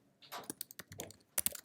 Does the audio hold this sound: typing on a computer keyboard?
yes